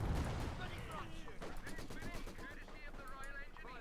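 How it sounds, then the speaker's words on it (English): A barrage of rockets exploding in the Company of Heroes 2 video game, a dense, continuous rumble of blasts and crackling gunfire-like bursts, heard under an excited commentator's voice throughout. "Another storm of rockets unleashed upon the Germans."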